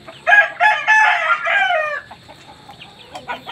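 An Aseel rooster crows once, loud and close, a long drawn-out call followed by softer clucks and rustling from the flock.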